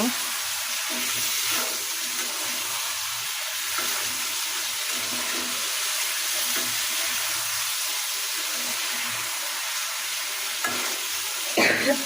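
Chicken meat sizzling as it is stirred and fried in a pan, a steady, loud crackling hiss lasting throughout, with occasional scrapes and clinks from the utensil.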